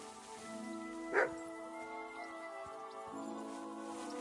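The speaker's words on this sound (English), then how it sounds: "Barking." A dog in the medieval role-playing game Kingdom Come: Deliverance II gives a single short bark midway, a little distant, over steady tonal background music.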